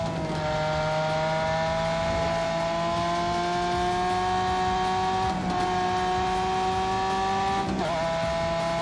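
A fast racing car's engine, loud and close, holding a steady high-pitched drone through a gearshift or two, the revs dipping and rising again with no voices.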